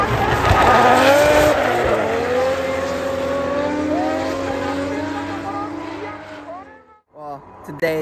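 Race cars drift at speed in Japan, with loud, sustained engine roar and screeching tire squeal sweeping up and down in pitch before dropping away near the end. Voices can be heard under the din.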